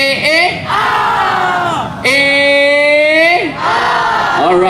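Audience at a university heritage and culture event shouting a drawn-out "A" in unison, two long loud collective calls with rising and falling pitch, close and filling the room.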